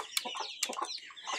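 Hen clucking softly with high, quick peeping of chicks scattered through, close by and fairly quiet, no talking.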